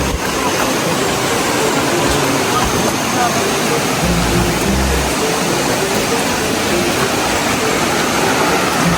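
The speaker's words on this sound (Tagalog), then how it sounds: "Wala, medyo malakas na yung tubig." A strong river current rushing at a crossing on a trek through the forest, a steady loud broadband roar of water that fills the whole span without pause.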